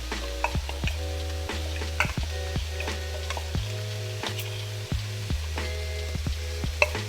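Garlic and sun-dried tomatoes frying in oil in a pan for pasta, a soft steady sizzle with several sharp utensil clicks and taps scattered throughout, moderately quiet and close.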